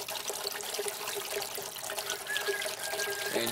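Water trickles and splashes steadily as an aquaponics fish tank refills after a siphon dump, a faint continuous flow with no talk.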